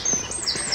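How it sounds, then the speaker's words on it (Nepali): Birds chirp outdoors during a walk in Knaresborough, with a few brief, high, faint tweets over quiet background. "ओहो कस्तो राम्रो यार चराको आवाज"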